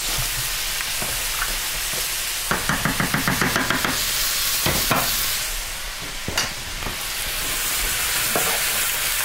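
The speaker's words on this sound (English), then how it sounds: "let me stir my beans and vegetables" Beans and vegetables stirred in a pan with browned beef for chili. A continuous close oily sizzle is broken by scraping strokes and a quick run of rhythmic taps of the utensil against the pan.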